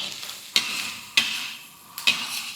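Chicken and curry leaves fry in a pan for a hotel-style curry leaf chicken fry, with a soft steady sizzle broken by three sharp scraping clacks of a spoon stirring.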